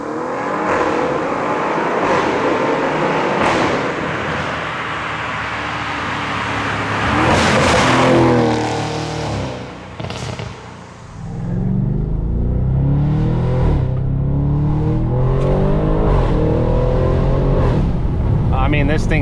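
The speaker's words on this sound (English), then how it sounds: "the main mod to this car is the straight piped exhaust" An Audi RS7 with a straight-piped exhaust revs and roars loudly nearby, rising to a harsh peak, dipping briefly, then rumbling on with a voice talking over it.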